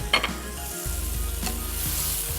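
Spicy liver masala (kaleji) with coriander and green chillies sizzling and frying in a pan, a steady close sizzle broken by a few scrapes and stirring clatters of a spoon against the pan.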